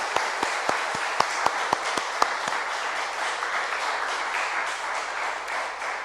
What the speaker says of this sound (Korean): 우리 이 목사님에서 박수를 한번 격려해 드리세요.